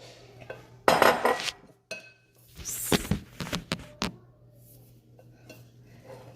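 A spoon scoops banana mixture into a bowl of cake batter made with sugar and eggs, giving loud clattering knocks and clinks of utensil against the bowl in irregular bursts, with brief quiet gaps between them.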